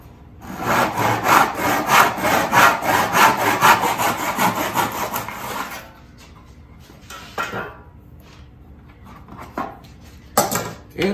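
Hand saw cutting through scrap wood to trim the corner of a picture frame, a loud steady run of rhythmic back-and-forth strokes for about six seconds, then quiet with a few scattered knocks and handling sounds.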